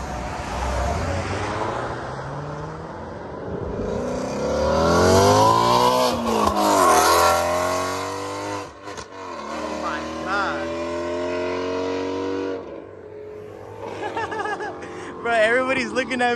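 Ford Shelby GT350 Mustang engine revving hard while driving, rising and falling through gears with loud harmonic sweeps, under intermittent excited talk from people inside the car.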